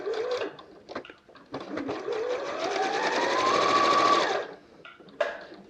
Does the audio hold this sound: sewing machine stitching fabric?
yes